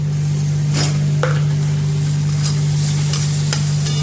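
Dried bombil fish, roasted and washed, going into spicy masala frying in a pan, a steady loud sizzle with a few clinks and stirring scrapes over a constant hum.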